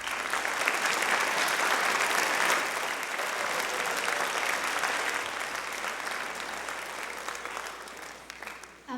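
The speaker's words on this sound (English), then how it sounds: "I'd like to give a round of applause for those people." Applause from an audience at a junior high school spring band concert, thick continuous clapping that swells early, stays steady across the hall for several seconds and tapers off near the end, with no voices over it.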